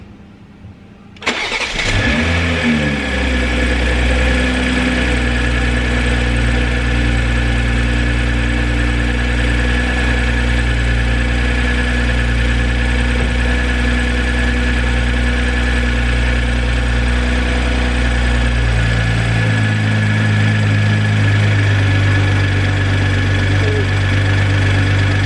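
A BMW M340i with a catless downpipe and B58 inlet pipe cold-starts after sitting all day: a sharp crank and loud bark, then a steady deep idle that settles slightly lower near the end, close and alone.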